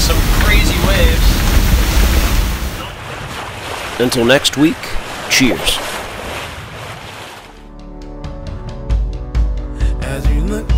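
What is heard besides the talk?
sailboat pounding through big waves in a strong squall wind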